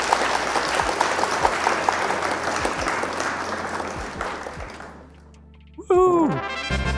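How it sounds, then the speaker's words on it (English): Audience at a Flesh and Blood card game tournament applauds in a dense, steady clatter of clapping that thins and fades out, followed by a brief burst of voices afterward. "Round of applause for opponent."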